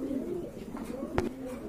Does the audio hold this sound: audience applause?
no